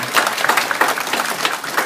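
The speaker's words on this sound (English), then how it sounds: "So let's give Joe a round of applause." An audience at a boxing hall of fame ceremony gives a short burst of dense applause, steady and fairly close, with no voices standing out.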